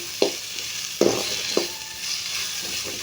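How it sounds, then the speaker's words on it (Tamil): Green chilies and curry leaves sautéing in a pan for sambar, a continuous sizzle broken by three crisp stirring scrapes early on. "பச்சை மிளகா நல்லா வதங்கட்டும் அப்போ தான் நல்லாயிருக்கும் டேஸ்ட்டு"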